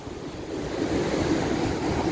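Large sea waves crashing on the shore at sunset, a dense steady roar of surf building slightly and holding loud, with a little wind noise and no talk.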